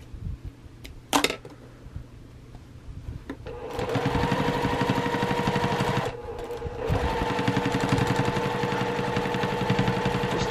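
A sewing machine stitches quilt binding: a few soft clicks and handling noises first, then a loud, steady run of rapid stitching with a brief pause before it resumes, close by.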